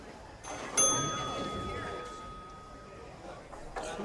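A single bright metallic ding from a counter-top table bell at a bowling tournament, struck once and ringing out in a long sustained tone that fades slowly under steady background crowd chatter and hall noise.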